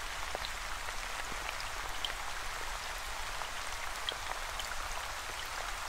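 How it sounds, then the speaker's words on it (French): Steady rain falls on a surface, a constant even hiss with scattered close droplet ticks, no voices and no pauses. "Vous pouvez choisir où cette pluie est en train de tomber."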